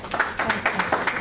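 A conference audience claps in a brief burst of scattered hand claps, fairly close and moderately loud, with no talking over it.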